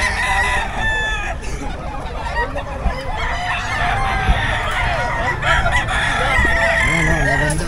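Chickens and roosters at the Bocaue pet market in the Philippines crow and cluck loudly and repeatedly, overlapping one another close by, over a busy market background with faint voices.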